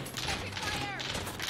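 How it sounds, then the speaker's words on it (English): Gunfire in the video game Call of Duty: Warzone crackles in rapid, fairly faint bursts, mixed with a voice talking over the shooting. "I'm getting shot at"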